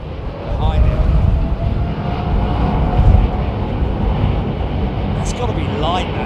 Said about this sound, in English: That's got to be light, that aircraft